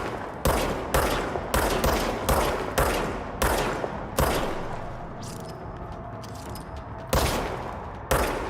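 Gunfire during a firefight in the video game Control: loud, close bursts of shots repeating roughly every half second, then a quieter stretch with faint sounds before two more sharp shots, without talking.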